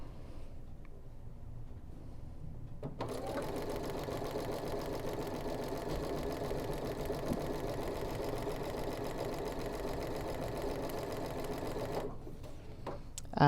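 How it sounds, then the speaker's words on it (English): A sewing machine stitches a quilt block seam at a 2.0 millimetre stitch length. A few soft clicks come first, then a steady close mechanical whir runs for about nine seconds before stopping with more clicks. "lower my presser foot, lower my needle, just back stitch twice, and then I'm going to sew this seam"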